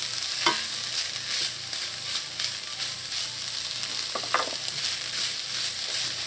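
Mushrooms sizzle steadily in a frying pan, with a few utensil stirs and scrapes against the pan, close and continuous without talk.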